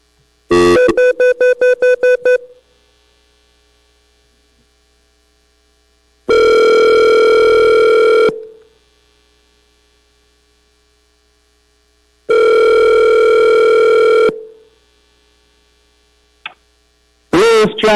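Telephone ring on a public call-in line for a platting board hearing, ringing loudly in long repeated bursts separated by quiet gaps, with a rapid trill at the start and no talk.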